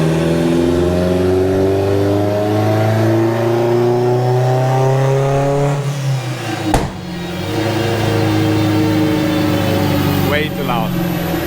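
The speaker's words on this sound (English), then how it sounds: "the car is just way too loud with no exhaust on it" A Mk2 car with no exhaust fitted screams loudly on a dyno, the engine revving steadily, then dropping off briefly with a sharp pop before climbing back up to a sustained high-rpm roar.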